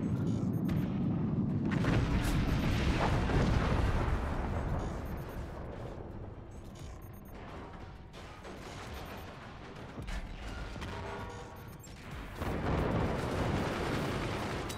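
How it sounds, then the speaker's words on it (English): Howitzer shells land in the game Forts with a run of deep booming explosions, heavy rumbling impacts arriving in clusters with rattling debris between them, loud and continuous over about fifteen seconds. "Those are howitzer shots."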